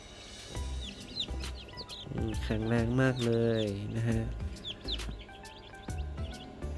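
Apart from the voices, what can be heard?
day-old chicks peeping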